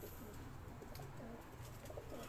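Pigeons on a rooftop loft in Mansoorabad coo softly in low, rolling calls against a quiet, steady background.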